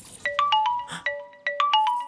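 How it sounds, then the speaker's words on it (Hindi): A mobile phone ringtone plays a bright, repeating chime pattern, two quick bursts of bell-like tones, loud and close with no voices. "हर बार जब फोन बजता है"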